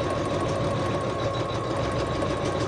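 An embroidery machine stitches a purple satin stitch onto a pillow, giving off a loud, continuous mechanical whirring hum with rapid needle vibration throughout, close by and without speech.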